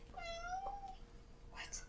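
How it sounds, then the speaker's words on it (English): A cat gives a faint, drawn-out meow, followed shortly by a second brief, higher cry in a quiet room. "It must be a cat."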